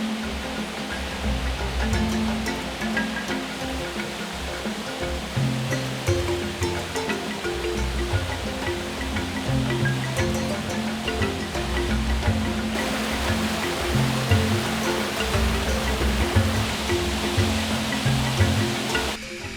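A waterfall on a quiet island trail, heard as a continuous, loud, full rushing roar of falling water, steady throughout with no voices.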